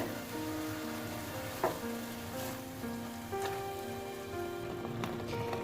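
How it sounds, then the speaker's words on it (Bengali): Coconut paste cooking in hot ghee for a sweet coconut sandesh makes a soft, crackling sizzle with scattered pops, faint and continuous beneath a quiet tonal background. "এবার আমি এই ঘিয়ের মধ্যে ওই নারকেলের পেস্টটা কিন্তু দিয়ে দিচ্ছি"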